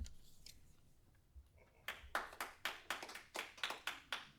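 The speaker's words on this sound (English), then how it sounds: "No clapping, please." A few people clapping at a Eureka city council meeting, sharp distinct handclaps in an uneven rhythm starting after a quiet moment, fairly near and moderately loud.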